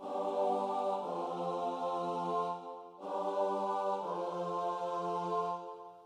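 Sustained four-part choir chords moving from dominant to subdominant, two long held sonorities with a brief breath between, smooth and resonant, no speech.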